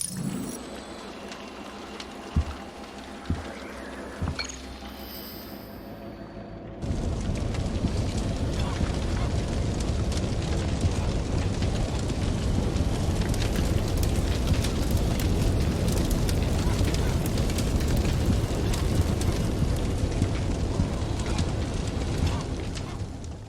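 Fire breaking out in the video game Eternal Threads: after a few quiet clicks and knocks, a sudden loud, dense roar of crackling flames sets in and holds steady, close and continuous with no talk.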